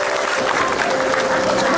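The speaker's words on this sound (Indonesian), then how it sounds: "Akbar, tepuk tangan dulu tuh Akbar." A studio audience at an Indonesian comedy talk show claps in a loud, steady wash of applause for the whole stretch, with voices faintly mixed in.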